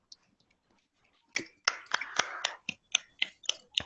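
Hands clapping in unison at an official launch ceremony for a girls' safety mission, a quiet pause followed by a run of sharp, evenly spaced claps from a small group nearby.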